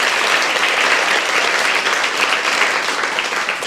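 A dense, steady round of applause from the audience at a guide dog class graduation, many hands clapping evenly and continuously at close range without any break.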